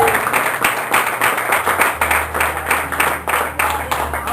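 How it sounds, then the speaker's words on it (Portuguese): A church congregation claps loudly during an evening service, a close, rhythmic burst of many hands beating in regular pulses with a low hum beneath and scattered voices. "Você pode aplaudir a Deus nessa noite."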